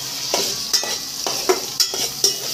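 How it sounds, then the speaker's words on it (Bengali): A small chopped onion frying in hot oil, a loud constant sizzle with rhythmic spatula scrapes roughly every half second as it is stirred. "তো আমরা পেঁয়াজগুলো এর উপর দিয়ে দেবো।"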